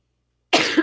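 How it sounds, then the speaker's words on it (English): A single short, sharp cough bursts out after a moment of silence, close and fairly loud, with a slight throaty rasp at its tail. "Why do I have a cough now?"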